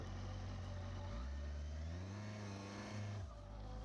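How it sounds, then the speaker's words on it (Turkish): A Benda LFC 700 motorcycle engine rises in pitch, drops as the gear changes, then climbs again while pulling away slowly, heard steadily at moderate distance. "Şimdi vitesi bir atalım. Yavaştan yol alalım."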